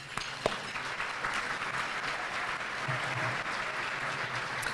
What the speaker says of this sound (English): A huge round of applause for you guys